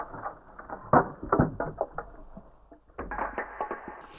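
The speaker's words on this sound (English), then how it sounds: "they are some ice scrapes and water droplets" Pitched ice scrapes and water droplet samples washed in reverb, a scattered patter of small clicks, drips and scraping textures, soft and close with no voices.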